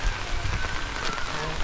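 Heavy rain pouring down as a constant, dense hiss with low rumbling underneath, loud and close throughout.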